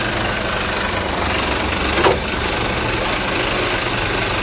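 A tow truck engine idles steadily and close, a constant low rumble with one brief clank partway through and no talking.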